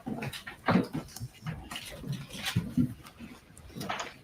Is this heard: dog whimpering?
yes